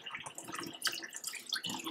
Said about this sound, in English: Now, once I've rinsed it, of course,